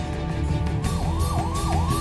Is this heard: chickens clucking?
no